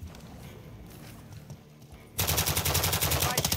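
Automatic weapon fire in Warzone 2 bursts in suddenly after quieter game ambience, a loud rapid stream of close shots lasting over a second.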